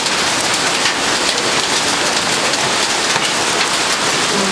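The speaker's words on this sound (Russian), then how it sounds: "Тут град, не только дождь, тут вообще град." Heavy hail mixed with rain pouring down during a thunderstorm in Novocherkassk, a dense, loud and steady hiss and patter of impacts that continues without a break.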